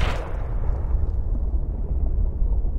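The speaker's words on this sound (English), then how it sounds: "We shoot him again." Rifle shot at a bear in the hunting video game Cabela's Big Game Hunter Pro Hunts, a single booming blast at the start followed by a long low rumbling decay.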